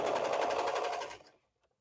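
A sewing machine stitches a Cascade Tee in one fast rattling run of just over a second, close and loud, then cuts off into near silence.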